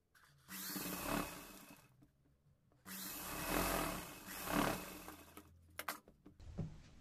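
A sewing machine stitching fabric for a cowl neck top, running in two long motorised bursts with a whirring hum and a short tail of stitching, close and fairly quiet, with pauses between runs and no talk.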